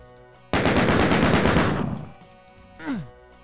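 Rapid automatic gunfire from the player's weapon in Doom 2 rattles loud and close in one sustained burst of about a second and a half, then trails off, followed by a brief descending game sound.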